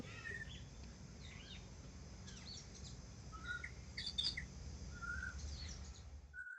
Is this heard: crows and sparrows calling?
yes